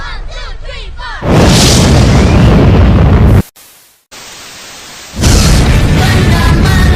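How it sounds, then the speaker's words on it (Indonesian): Explosion of a floating object: a sudden loud, broad roaring blast that swells in, cuts to near silence with a thin high tone, then returns as a second roaring burst, following faint chirping at the start. "benda meledak"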